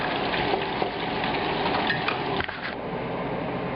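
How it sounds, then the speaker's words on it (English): Shrimp deep frying in hot light peanut oil keep up a continuous, even sizzling hiss with a few faint clinks near the end, and no talk. "The oil has to get hot, and we're going to first deep fry these."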